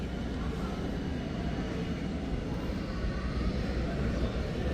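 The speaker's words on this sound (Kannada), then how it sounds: "ಇವಾಗ ನೋಡಿ ಇದು ಫ್ಲೈಟ್ ಟೇಕ್ ಆಫ್ ಆಗುತ್ತೆ ಈಗ." An airliner cabin during takeoff carries a steady, loud low rumble of engines and airframe roar, constant and even across the few seconds with no clear voices.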